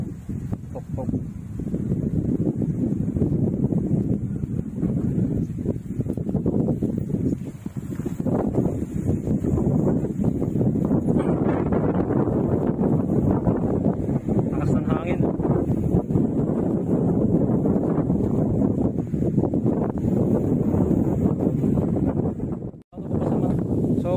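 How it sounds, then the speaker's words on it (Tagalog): Strong, steady wind on Mt. Tatang roars and buffets the microphone throughout, a dense low rush with occasional gusts and brief dips. "susubukan kasi malakas yung hangin."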